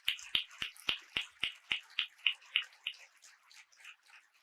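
Audience at a Jain cultural gathering clapping together in a steady rhythm of sharp, crisp claps about every third of a second, strongest at first and fading over four seconds, with no talk over it.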